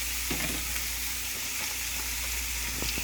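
A thin layer of quesadilla filling crisping in a hot pan, giving a dense, steady close sizzle and crackle with occasional light ticks, no voices.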